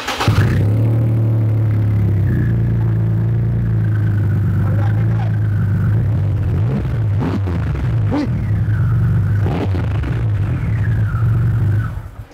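A car engine idling with a steady, deep rumble, with a few brief blips of revving, heard close and loud throughout while people talk over it.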